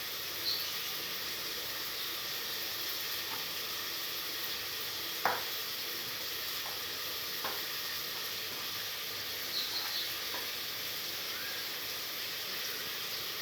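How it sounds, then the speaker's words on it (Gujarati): Tomato gravy frying in a pan, giving a soft, steady sizzle throughout with a few faint stirring taps, close by and fairly quiet. "એ શેકાય સાંતળાય ત્યાં સુધી આ ટમેટાની ગ્રેવી"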